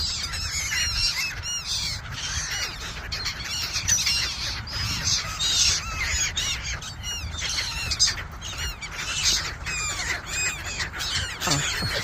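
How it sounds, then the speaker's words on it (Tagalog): A large flock of birds squawking and honking continuously while being fed pandesal bread, a dense, busy chorus of overlapping calls close by with no break. "Kapag pakain po kami ng maraming ibon, pandesal, compliments of our EBB friends."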